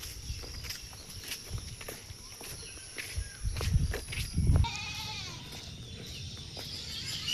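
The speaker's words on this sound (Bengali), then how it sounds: "কি সুন্দর ছাগল" A goat in a village bleats a couple of times at moderate distance, with rustling and footstep-like thumps nearby and a faint constant hum in the background.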